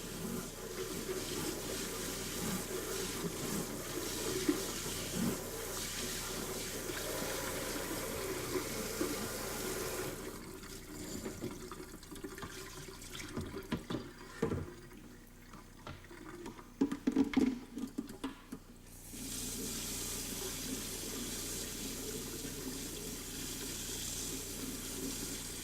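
Hot tap water runs into a sink to rinse winemaking equipment, a steady hiss and splash that stops midway, leaving faint clinks and handling of gear, then the faucet gushes again.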